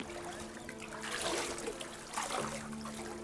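Floodwater in Hyderabad flows and trickles around a house gate, a steady close wash of moving water that swells in two louder surges, with a faint hum running underneath.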